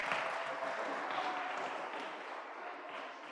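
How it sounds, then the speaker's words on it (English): Faint clapping from a congregation at a Shabbat synagogue service with a b'nei mitzvah, soft and steady throughout with no talking. "This is a clapping community this morning."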